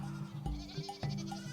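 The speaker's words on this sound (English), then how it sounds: "We have 350 goats." Goats on a farm bleating in short repeated calls, several distinct cries in quick succession from fairly close by, with no voices.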